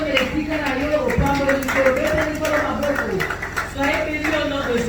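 Congregation members in a church clap for the Lord, rhythmic clapping mixed with singing and voices over the whole span.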